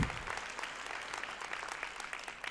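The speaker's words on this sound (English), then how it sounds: "Can we give a round of applause for them again, please?" Applause from an audience honoring community service awardees at a Martin Luther King Jr. birthday celebration, a moderate, fairly distant patter of many hands clapping steadily without a break for a couple of seconds.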